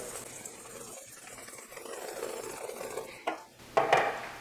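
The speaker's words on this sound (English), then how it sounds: "whisk all your dry ingredients together" Dry ingredients for everything bagels are whisked together in a bowl, giving soft scraping, swishing strokes close by, with a couple of louder clinks against the bowl near the end.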